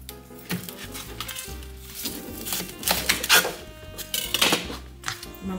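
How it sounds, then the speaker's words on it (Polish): Cauliflower being cut into florets with a knife, giving a run of sharp crisp chopping and snapping taps with kitchen clatter and no talking. "Kalafiora podzieliłam w różyczki."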